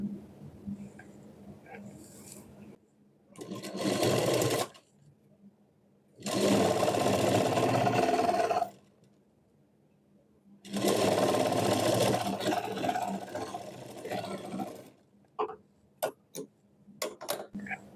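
An electric sewing machine stitches a seam on the main fabric of a knee-length frock in three loud, close bursts of rapid whirring, separated by quiet pauses, with a few sharp clicks at the end.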